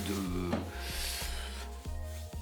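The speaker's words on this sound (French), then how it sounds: "de paille de fer haute performance pour préparer ma lame avant le polissage" Steel wool pad rubbing a straight razor blade to prep it before polishing, giving a steady abrasive rasp with a repeating stroke rhythm close up, over a low motor hum from a rotary attachment.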